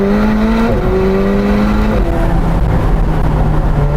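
McLaren 765LT supercar fitted with a Novitec exhaust, revving loudly and up close, its engine note rising and falling in steady pulls with a continuous throaty roar throughout.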